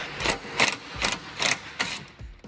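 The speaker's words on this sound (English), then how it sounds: "I think I should be able to just undo this bolt, and I think it would slide out" A bolt is undone on a VW Touareg with a ratchet wrench, heard as five or six quick, sharp clicking bursts in a steady rhythm, close and fairly loud, with no talk.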